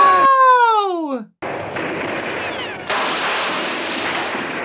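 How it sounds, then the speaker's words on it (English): Explosions and gunfire in a 1970 western war film, starting with a descending whistling shriek that cuts out, then a sustained roar of blasts and shooting that surges louder partway through, with voices underneath. "A lot of fire and a lot of explosions and a lot of noise"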